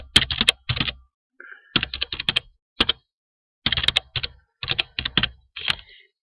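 Typing on a computer keyboard to enter a username, password and email, with fast clicking bursts of keystrokes separated by short pauses, close and clear with no talking.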